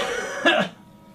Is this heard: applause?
no